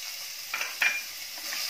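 Chopped capsicum is stirred into garlic and ginger frying in a pan over a low gas flame, giving a soft, faint sizzle with a few light scraping stir sounds.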